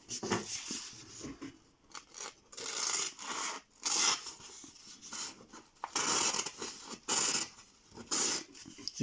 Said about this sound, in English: It cuts much better than this one, but I think it needs some stropping.